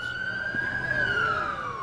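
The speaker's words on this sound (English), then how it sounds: "Sirens." A siren wails steadily through a tense Buffalo Fourth of July weekend, its pitch slowly rising and falling over distant street rumble, moderately loud and continuous with no talk.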